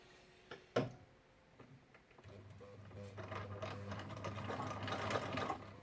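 A treadle sewing machine sewing a zigzag seam, with a few sharp clicks first, then a steady, soft mechanical whirr and ticking that builds gradually.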